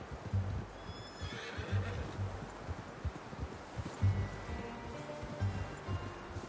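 A horse in a video game whinnies loudly, its neigh rising over a steady backdrop of rustling and soft hoofbeats.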